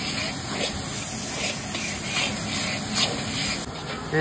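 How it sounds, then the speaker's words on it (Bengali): Kalia spice paste sizzles and spatters steadily in a hot pan, a dense continuous frying hiss up close with no talk over it. "কালিয়ার মশলাটা বাজা বাজা হইতেছে"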